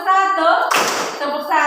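A classroom of students claps on cue, a single loud burst of hands slapping together in the middle, framed by a person speaking before and after.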